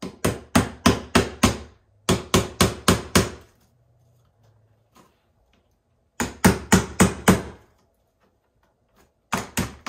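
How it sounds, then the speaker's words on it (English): A hammer lightly taps laser cut board pieces together in quick rhythmic runs of sharp knocks, four to six blows per run, separated by pauses of near silence. "I just take the hammer to it lightly and work my way down"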